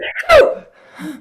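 A single sharp sneeze close up, preceded by a short intake and followed by a softer trailing sound.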